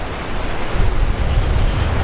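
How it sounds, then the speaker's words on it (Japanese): Steady roar of ocean surf at Copacabana Beach, Brazil, with wind rushing over the microphone, a continuous wash of breaking waves without distinct individual crashes. "そしてこっちがコパカバーナビーチです。"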